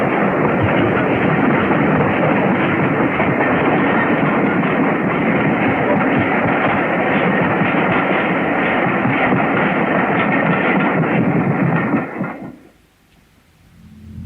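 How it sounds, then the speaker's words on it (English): Flying Scotsman steam locomotive approaching Doncaster at dusk in 1963, a loud, steady broadband roar of the train running for about twelve seconds before dropping away abruptly into near quiet. "Flying Scotsman approached Doncaster, where she came to a stand exactly 6 minutes early"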